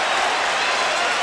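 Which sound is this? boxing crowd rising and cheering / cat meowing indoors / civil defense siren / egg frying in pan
boxing crowd rising and cheering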